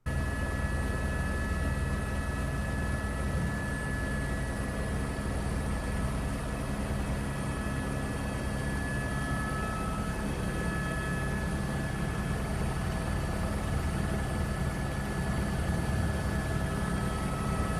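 A helicopter flies low while filming a high-speed chase for a movie, its steady broadband rotor and engine roar holding loud and constant throughout, with no speech.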